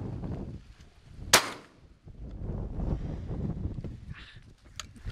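A single loud shotgun blast rings out during a bird hunt in South Africa, a sharp close report standing alone amid outdoor wind and rustling, with a fainter crack later.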